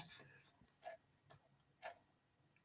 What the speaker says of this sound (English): Somebody said, loudest clock in the world.